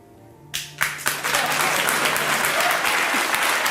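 A studio audience at a live comedy talk show bursts into applause after a moment of quiet, the dense clapping building quickly and holding loud and steady to the end.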